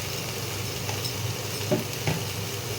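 A spice masala with poppy seed paste and Kashmiri chili powder sautés in a pan, a soft steady sizzle with a few quiet spoon scrapes near the end, close and without speech.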